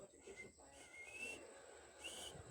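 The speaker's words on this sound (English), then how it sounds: "I can't whistle very well." Someone softly whistles a few short, thin notes in a quiet indoor room near a sleeping cat, faint against a low background hiss.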